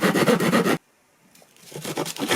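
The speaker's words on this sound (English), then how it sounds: "Then you obviously sandpaper the cubes." Sandpaper rubs briskly against a small wooden dice cube in rough rhythmic strokes, then a brief pause before the scraping resumes close up.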